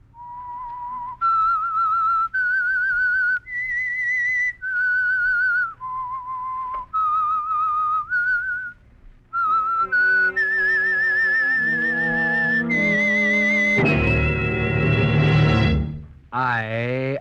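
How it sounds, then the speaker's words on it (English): The opening whistle of the 1946 radio drama The Whistler: a clear whistled melody of sustained notes steps up and down, then shifts into a rising, swelling tone with a brief sliding flourish at the end. "That whistle is your signal for the Signal Oil Program"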